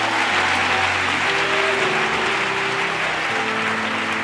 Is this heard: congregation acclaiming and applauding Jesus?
yes